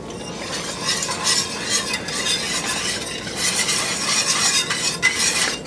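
Beef broth being stirred into Swedish meatball sauce in a pan, a steady scraping and swishing stir with faint sizzling and the occasional clink of a utensil, continuous and close.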